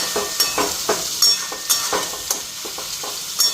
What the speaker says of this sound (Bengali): আগে শাকটা লাড়ি।